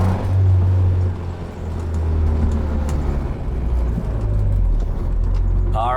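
Honda-powered Innocenti Mini classic car with a VTEC engine droning steadily from inside the cabin during a ride, a loud continuous low hum that dips briefly and then holds.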